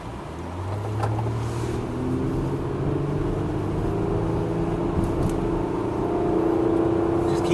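A 2013 Infiniti JX with a 3.5-liter V6 and CVT accelerates steadily, its engine drone rising smoothly in pitch without gear shifts, heard as a continuous moderate hum from inside the cabin.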